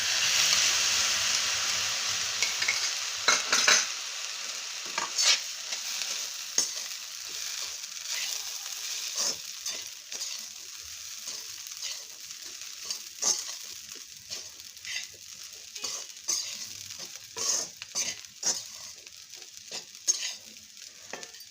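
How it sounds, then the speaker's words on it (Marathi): Saffron-infused milk hits golden roasted moong dal in a hot pan, giving a steady close sizzle with scraping stir strokes and clinks of a utensil throughout, no talking. "आता मी यात टाकून घेते हे केसर घातलेलं दूध।"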